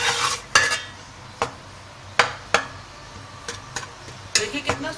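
Chana dal halwa being stirred and roasted in a pan, a soft low sizzle under repeated sharp scrapes and knocks of the spoon against the metal, irregular and close, with no talking.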